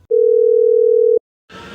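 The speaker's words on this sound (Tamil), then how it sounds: "ஓகே, இந்த நம்பர் நம்ம இப்போ கால் பண்ணிவிடுவோம்." A steady, unbroken telephone tone rings loudly for about a second after a number is dialed, then cuts off abruptly, leaving brief silence before a soft burst of noise.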